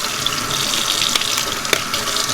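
Warm tap water runs steadily into a sink while a tightly pleated tri-color tie-dye tee is rinsed and unbanded indoors, a continuous close splashing hiss with a few brief louder splashes.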